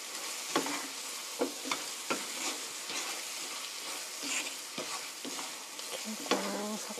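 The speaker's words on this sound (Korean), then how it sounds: "이렇게 고루 섞어주시고요. 한 2분 정도 볶아주세요." Chicken coated in curry powder stir-fries in a pan: a steady sizzle runs throughout, punctuated by repeated scraping clicks of a spatula against the pan at an irregular rhythm, close and moderately loud, with no talking.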